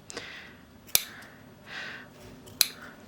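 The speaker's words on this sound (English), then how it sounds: "So I'm just going to cut some V's in here." Sewing scissors cut V-shaped notches into a denim seam allowance, giving two sharp, close snips with soft fabric rustling between them.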